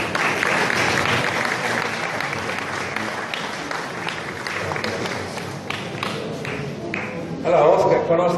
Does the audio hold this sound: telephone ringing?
no